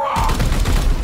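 A short, dense volley of booming gunfire from the video game Daemonhunters fills the whole moment, loud and continuous with heavy low thumps.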